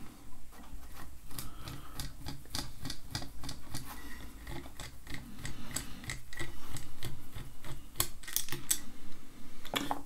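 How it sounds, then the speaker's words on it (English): A large screwdriver backing out the long extended barrel clamp screws on a KJW-based airsoft VSR sniper rifle fitted with a conversion kit, giving a dense run of close, sharp ticking and clicking taps with no talk. "releasing these barrel clamp screws. Big screwdriver, because I use extended screws"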